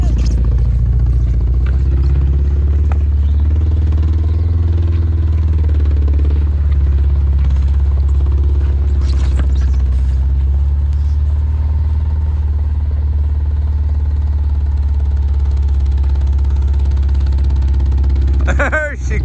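A Subaru engine revving hard and steadily up close while a tire spins loose on its rim, a continuous loud drone with a rhythmic rubbing undertone and a brief clatter near the end.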